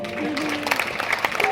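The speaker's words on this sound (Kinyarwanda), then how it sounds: "mugakomera amashyi." Scattered clapping rises from guests at a Rwandan engagement ceremony, building into a patter of applause under a nearby voice and a brief tonal sound at the start.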